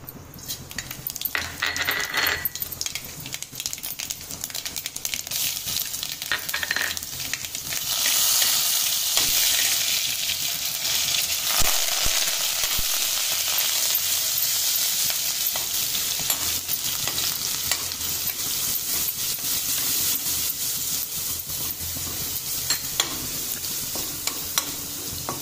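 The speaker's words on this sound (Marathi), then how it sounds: "मिरची, लसूण छान शिजू द्यायचा आहे आपल्याला।" Green chillies and garlic sizzle steadily in a hot pan, with a continuous crackling fry broken by occasional scraping stirs of a spoon against the metal, close and fairly loud throughout.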